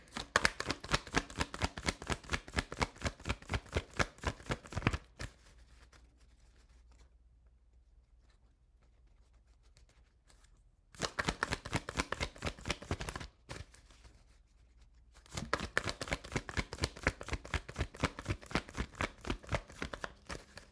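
Tarot cards being shuffled in quick rhythmic riffling bursts, heard close and clear. Quiet pauses separate three runs of rapid card flicks.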